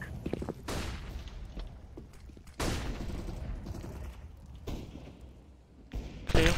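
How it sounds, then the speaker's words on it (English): Flashbang grenades and gunfire in the video game CS:GO, with several sharp, loud bursts separated by quieter gaps of scattered shots and movement. "Throwing a flashbang!"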